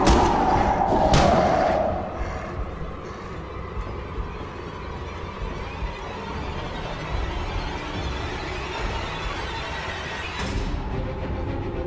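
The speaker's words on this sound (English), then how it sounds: "When you encounter him, the chase stinger and chase loop begin at the exact same time." Video game chase music for the monster Hector, opening with a sudden loud stinger hit that cuts in abruptly, then settling into a dense, sustained, tense loop with a second sharp accent near the end.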